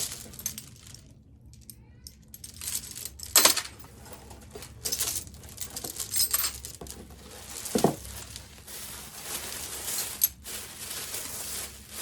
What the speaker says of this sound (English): One heck of a plastic bag.